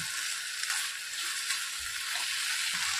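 Steady hiss of a hot pan as garlic paste is stirred into the sizzling food, a continuous bright frying sound with faint scraping of a spoon and no talk.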